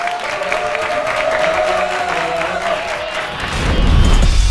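Audience at a K-food star training camp event claps steadily throughout, with the applause swelling toward the end; a faint tone and light crowd noise sit under the clapping.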